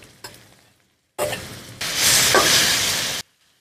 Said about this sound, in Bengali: আলু শুটকি ভালো করে কষাই লিছি, ও দৌকা তেল ছাড়িচ্ছে।